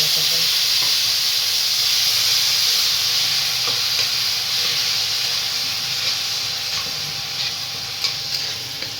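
Tomatoes fry in hot oil with chilli, bay leaf, ginger, garlic and asafoetida, giving a steady, close hiss and sizzle with light stirring scrapes throughout.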